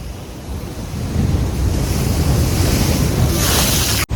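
Strong sea waves roar continuously, loud and close, with wind buffeting the microphone throughout, heard while wading far out into the sea.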